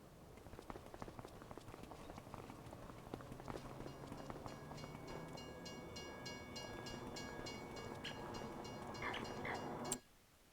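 A train rolls past in Farming Simulator 25, a faint continuous rumble with rhythmic clacking and scattered clatter, ending in a sudden sharp cutoff.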